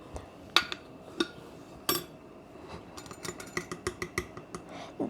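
A metal tablespoon scoops and taps in a bowl of flour while making kid-friendly flour-and-lotion slime, producing scattered light clinks and scrapes spaced irregularly, close and fairly quiet with no talking.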